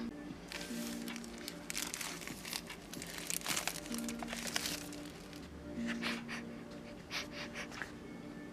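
Close, steady crinkling and crumpling of plastic packaging as a box of oil pastels is unwrapped, with soft tearing and rustling bursts and no talk.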